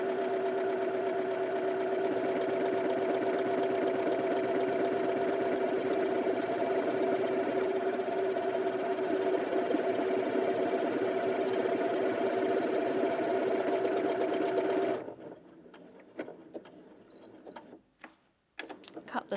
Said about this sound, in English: the machine knows when to stop sewing and do your bar tacks at the back and come forward for the size of your buttonhole